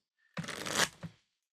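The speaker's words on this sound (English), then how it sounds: "I've got the cards shuffled up" Tarot cards are shuffled in one quick riffling burst lasting under a second, fairly close and crisp, ending with a soft tap as the deck settles. No talk is heard.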